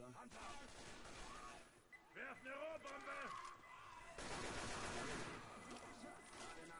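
Rapid gunfire bursts in Left 4 Dead 2 crackle over a busy mix of effects while voices talk throughout, the shooting loud and steady for most of the stretch.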